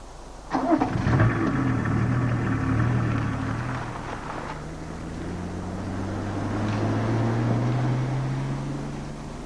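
A 1993 BMW six-cylinder 2.5-litre diesel car engine starts and then hums smoothly as it drives, rising and falling gently in pitch with wind noise around it.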